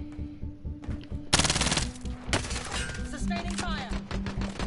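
Video game gunfire rattles in rapid automatic bursts, loud and close, mixed with sharp single shots and clanking effects while players talk over the action.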